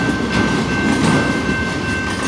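A CP Rail freight train with flatbed and gravel cars rolls steadily past nearby, a continuous loud rumble with rhythmic clacking of wheels over rail joints and a faint high whine.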